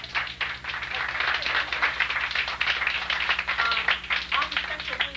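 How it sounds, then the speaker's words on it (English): Audience applause for a speaker at a health sciences workshop, a dense steady patter of many hands clapping throughout, fairly close, with a faint voice or murmur underneath. "We want to give Dr. Jewel for another round of applause."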